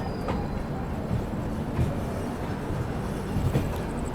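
The Humsafar Express, a long-distance train from Rameshwaram to Firozpur, pulls out of Warangal railway station with a low continuous rumble, while a few soft wheel clacks and rattles rise from time to time under it.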